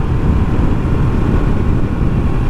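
A Royal Enfield Scram 411 motorcycle rides on pavement, giving a steady, close engine drone and road rumble mixed with wind buffeting, with no break through the short stretch.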